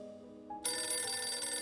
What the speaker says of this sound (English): I'm answering the phone.